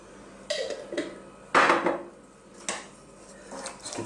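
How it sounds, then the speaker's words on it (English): A utensil stirs orange chicken sauce with spring onions and honey in a pan, giving several scraping clatters and knocks against the metal at an uneven pace, close and moderately loud. "Let's give this a stir."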